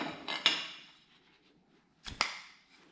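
A steel-to-aluminum weld snapped apart by hand: two sharp metallic cracks about a second and a half apart, each ringing briefly, close and otherwise quiet.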